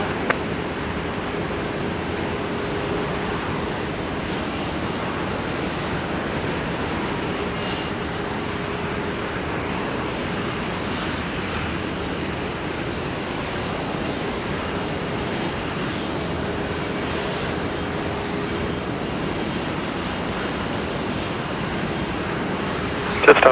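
An airliner at Sydney Airport gives off a steady, even engine drone from a distance, constant for the whole stretch, while air traffic radio chatter plays over it.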